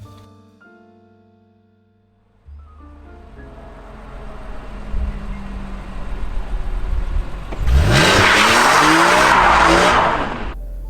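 Nissan GT-R sports car driving, its engine building steadily before a loud burst of tire skidding and squeal near the end, close and dominant with no voices.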